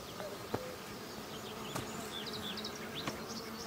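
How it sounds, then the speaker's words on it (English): A swarm of bees hums continuously at a distance, faint and steady, with a few sharp clicks and knocks breaking through the buzzing. "We'll get those bees."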